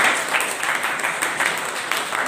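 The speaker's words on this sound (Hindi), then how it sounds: "एक बार सर के लिए फिर से ताली।" An audience claps steadily after a talk at a seminar on laser cutting systems, the applause sustained and fairly even throughout, without voices.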